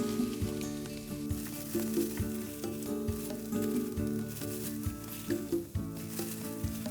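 Mushrooms cooking in a pan give a continuous sizzling hiss, heard under steady tonal background music.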